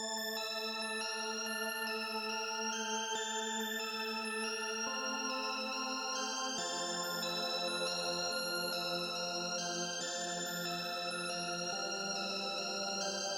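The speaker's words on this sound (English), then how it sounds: "the first sound that I'm using is this Enter the Void synth pad from Analog Lab 5" A sustained synth pad loop, the Enter the Void preset from Analog Lab 5, plays steady chords with layered tones and shifts harmony every few seconds, alone and even in level throughout.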